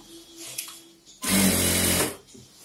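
A sewing machine runs in one loud, steady burst of about a second, stitching a silk pattu pavadai at a tailor's table, with quieter handling sounds before and after.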